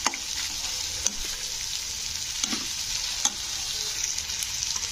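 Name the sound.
onions frying and being stirred in a pan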